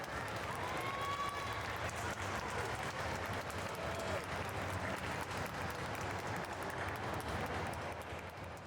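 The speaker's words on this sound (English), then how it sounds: "Let's give it a big round of applause" A crowd at a main-stage performance applauds loudly and continuously, a thick, even roar of many hands clapping with a few faint whoops mixed in, tapering slightly at the end.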